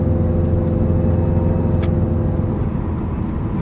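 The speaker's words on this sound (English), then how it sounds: "You can hardly hear the car, it's pretty good." A Subaru WRX cruising at light throttle through a residential area with its exhaust valve closed, giving a low, steady, subdued engine hum heard from close by inside the car.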